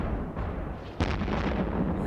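A rocket explosion in the space game EVE Online bursts out around the midpoint, a sharp broadband boom that rolls into a sustained low rumble over steady background drone.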